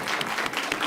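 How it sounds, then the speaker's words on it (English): A short burst of dense, close applause from attendees at a school board committee meeting, steady and continuous throughout. "let's give a round of applause"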